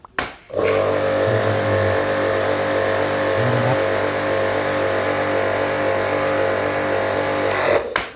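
A high-pressure washer with an auto water cut-off runs loud and steady after a brief start-up, its motor and pump droning continuously while spraying water, then cuts off near the end.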